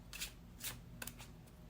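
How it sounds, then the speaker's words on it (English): Tarot cards shuffled by hand in short bursts of crisp riffling and flicking, three or four quick rustles spread over a couple of seconds against a quiet low room hum, nearby and fairly soft. "now it's time for our tarot cards. Let's shuffle with intention"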